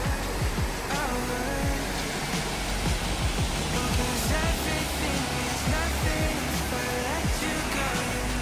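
Waterfalls rush through the village of Rastoke in Croatia, a steady, dense roar of flowing water that fills the whole stretch without pause.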